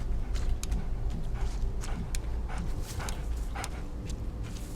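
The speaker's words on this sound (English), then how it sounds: "I hear a dog." Dog barks from a video game set in a dark forest, several short sharp bursts scattered over a dense, steady ambient rumble, moderately loud and somewhat distant.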